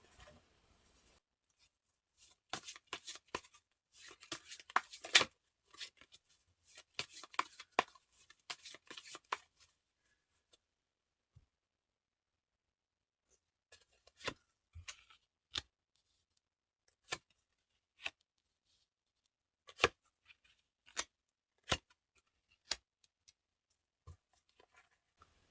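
Tarot cards are handled in a quiet room. A dense burst of rapid shuffling riffles and slides is followed by a series of single crisp card snaps spaced a second or two apart as cards are drawn. No one speaks.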